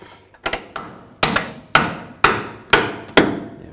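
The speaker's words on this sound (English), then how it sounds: "Let's take a hammer." A hammer taps a CV axle into alignment on a BMW X3, about seven sharp metallic strikes, close and moderately loud, a couple of light taps first, then steady blows roughly every half second.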